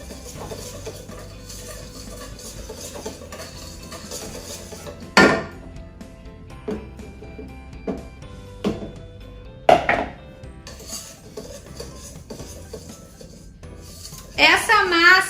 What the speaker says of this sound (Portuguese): E vou misturando com um fouet